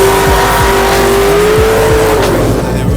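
Turbocharged tuned car at the Tuning World Bodensee show, its engine loud and close with a rising, sustained rev tone and sharp repeated pops and crackles over steady crowd and event noise.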